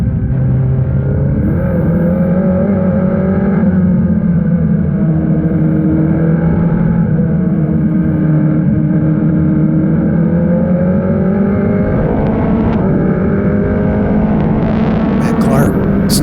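Open-wheel Formula Regional race cars on the final laps at the NOLA circuit, a continuous loud engine roar with shifting pitch, heard under steady commentary talk.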